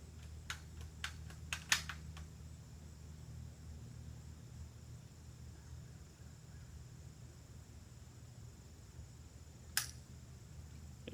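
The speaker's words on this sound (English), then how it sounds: "At this point I begin having some trouble getting rounds smoothly into chamber, working the bolt action." Metallic clicks and clacks of the bolt action being worked on a Savage 93 BSEV rifle at a practice range, a quick cluster of sharp clicks early on, then a long quiet hiss and one more click later.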